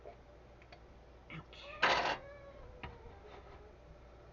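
A cat in a home kitchen lets out a short, fairly clear meow midway, surrounded by faint clicks and ticks of breakfast preparation, and a person briefly speaks.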